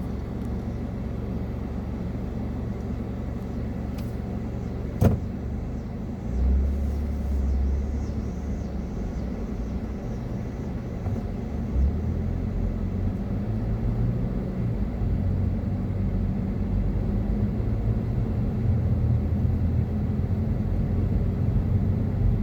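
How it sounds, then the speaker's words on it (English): Steady low traffic rumble at a busy, jammed intersection in Vinton or Roanoke, continuous and fairly loud with a brief sharp knock early on, no talk. "Busy intersection. You can see all the traffic jams."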